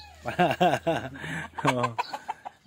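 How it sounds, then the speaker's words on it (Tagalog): A fighting rooster crows nearby in a yard in Bongabon, Nueva Ecija, Philippines, loud with a strained, wavering tone, followed by a few short clucks and scattered chicken calls. "At marami-rami din ho itong tumitilaok sa kanilang bakuran."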